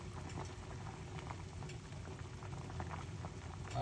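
Tea bubbles in a pot at a gentle, continuous boil, a soft, even burble with faint popping, quiet and close, with no voices.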